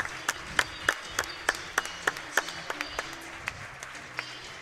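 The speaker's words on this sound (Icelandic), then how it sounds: "allt húsið klappa fyrir honum" Arena crowd at a men's handball league match in Iceland, KA against Haukar, applauding as an injured player is carried off the court; sparse, distinct claps ring out singly and in clusters over a low hall murmur, moderately distant.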